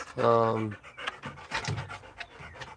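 A very anxious dog panting in a home, a fast, close run of rhythmic breaths up front, then softer panting continuing under a person talking nearby.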